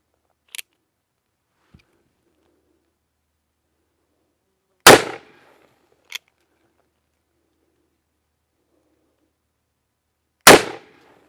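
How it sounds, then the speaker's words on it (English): .44 Magnum revolver fired across a chronograph outdoors, two loud sharp shots well apart with smaller clicks and taps between, otherwise quiet. "Let's put these 44 mags across chronograph."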